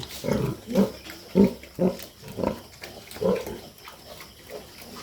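A nursing sow takes her extra night feed close by, giving a run of rhythmic low grunts and chomping bursts roughly every half second, with no talk.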